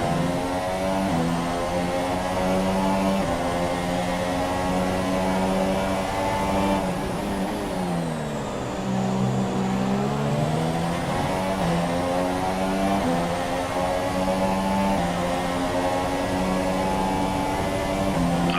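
Formula 1 car engine in the F1 2017 racing game, running at the Australian GP with front wing damage, a loud continuous high-revving harmonic whine that drops in pitch and climbs back as the car brakes and accelerates.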